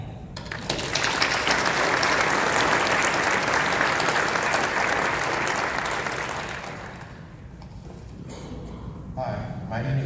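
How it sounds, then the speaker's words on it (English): A conference audience applauds sponsors in a long, dense burst of clapping that swells and holds steady before tapering off near the end. "We'd like to give a special thanks and round of applause to all of our sponsors who made this project a reality."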